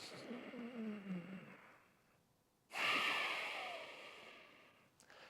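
Slow diaphragmatic breathing into the belly from a tall kneeling position: a long soft inhale, a brief pause, then a strong airy exhale close to the microphone.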